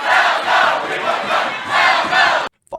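A protest crowd in New York shouts loudly in repeated rhythmic surges, chant-like bursts rising and falling close by before cutting off abruptly, followed by a brief faint sound.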